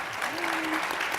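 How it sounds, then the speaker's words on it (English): A conference audience at a panel gathering breaks into dense, continuous applause, a steady wash of many hands clapping with a faint voice tone briefly under it. "Let's give them a round of applause."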